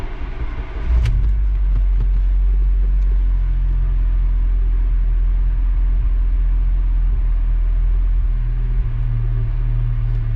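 An 8th gen Honda Civic Si engine cranks and catches about a second in, then settles into a steady, deep running rumble with a slight rise near the end, close by, no talk.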